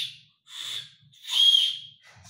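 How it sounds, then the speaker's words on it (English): An ancient Maya clay whistle from Pacbitun, Belize, sounds a single high note in several separate breathy blasts, close and clear, with the third blast the longest and loudest. "So a whistle is just the mouthpiece and then an exit hole, and it only produces one note."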